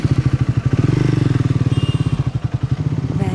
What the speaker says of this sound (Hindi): अरे ये बाइक तो मेरी है।